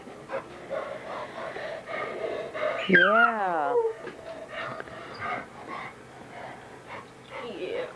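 A dog gives a single high whimpering yelp midway, followed by faint breathy panting, indoors at home, amid low room noise and a brief spoken word.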